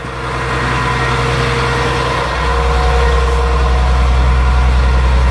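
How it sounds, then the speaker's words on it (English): A forestry bucket truck with a lift idles steadily and close by, its deep, even engine drone growing slightly fuller partway through, with no talking. "You can hear the engine idle down"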